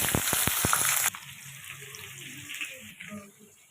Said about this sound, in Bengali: তেল গরম হয়ে গেছে, ফ্রাইড রাইসের সবজিটা ভেজে নেবো এতে।